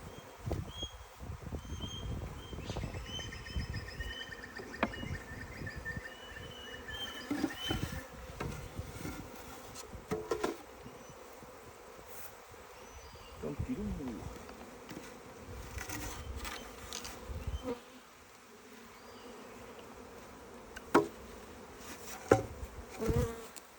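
Steady buzzing from many honey bees at an opened Langstroth hive, a dense drone with occasional louder passes close by and some handling clatter.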